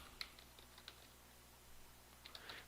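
Faint, sparse keystrokes on a computer keyboard while entering a formula in LibreOffice Calc, a few scattered clicks near the start and another small cluster at the end, quiet room with low hum.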